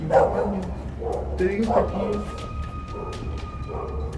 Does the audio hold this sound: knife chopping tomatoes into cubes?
no